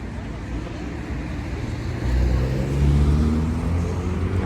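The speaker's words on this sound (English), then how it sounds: "Lots of traffic today." Steady traffic rumbling along Friedbergerlandstrasse in Frankfurt, with cars passing close by and a louder vehicle swelling in from about halfway, heard on a city walk.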